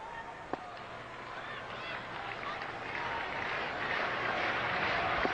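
A cricket crowd at a South Africa versus Australia Test match in Durban applauds a boundary, with a soft, steady patter of clapping and murmuring that swells gradually and stays fairly distant throughout.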